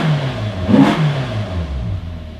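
Ferrari California V8 revs up once to a swelling growl and then settles back to a steady idle, loud and close with strong intake noise.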